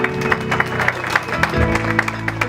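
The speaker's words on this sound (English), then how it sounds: "give them a great big round of applause" Audience applause at a family reunion event mixes with music, claps scattered and moderately loud beneath a sustained musical backing.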